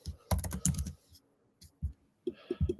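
Typing on a computer keyboard while writing SQL queries, with quick bursts of close, crisp key clicks separated by short pauses.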